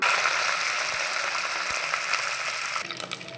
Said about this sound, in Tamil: இப்போ வந்து கருவேப்பிலையை சேர்த்துடலாம்